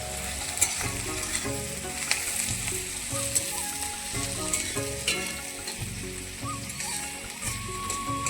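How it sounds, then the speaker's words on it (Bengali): Onions frying in a pan before mutton is added, a steady dense sizzle with crackling pops held close and loud, tonal kitchen clatter or music-like hum running underneath throughout. "এখন পেঁয়াজটা একটু ভেজে নেবো লাল লাল করে"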